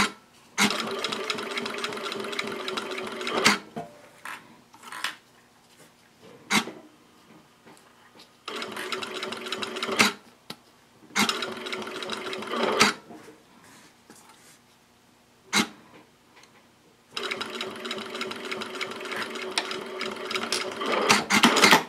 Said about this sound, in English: I'm going to use the edge of this foot right here to ride along the edge of my binding as I sew along.